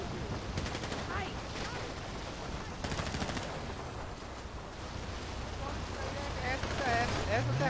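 Bursts of gunfire in the GTA RP video game, several short rapid volleys spread across the scene under ongoing background game noise and occasional voices.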